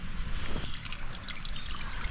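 Water trickles steadily over the steps of a hill trekking path, a continuous close splashing flow with no talk.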